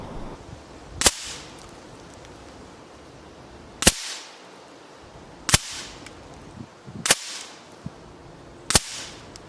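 Five sharp Air Arms S510 XS TDR air rifle shots fired at a 40-meter range on a windy day, each a loud crisp crack spaced a couple of seconds apart over quiet outdoor background.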